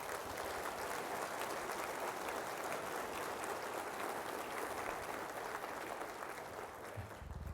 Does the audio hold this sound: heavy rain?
no